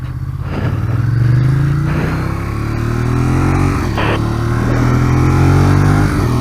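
Ducati Monster 821 motorcycle pulling out onto a street, its engine droning steadily close by with rising revs and a few shifts, loud and continuous with no talking.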